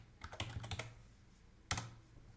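Someone types on a computer keyboard in a few quick clusters of soft, close key clicks, with a brief pause before one final keystroke.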